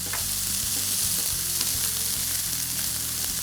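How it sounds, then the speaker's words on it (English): Swiss chard stems and red onion sauté in a hot pan, giving a loud, continuous close-up sizzle with faint stirring clatter throughout. "So I want us to start sautéing those to soften them, along with my red onion."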